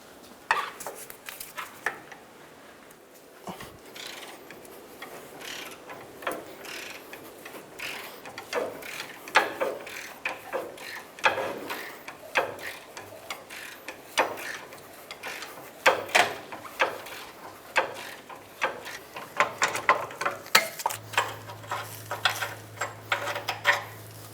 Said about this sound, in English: I'm going to use a socket on a 1/2-inch bar.